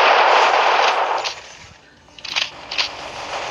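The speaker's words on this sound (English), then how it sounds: "Okay, I heard shooting." Rapid video game gunfire in the battle royale Block City Wars, a dense, loud burst of shots that fades, then a few sharper scattered shots follow.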